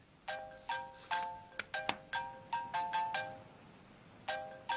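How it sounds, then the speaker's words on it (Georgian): A mobile phone ringtone announcing an incoming call in a dubbed TV drama scene: a bright, melodic electronic tune of repeated tone bursts in short phrases, with a brief pause before the tune starts over. "ნადია რეკავს"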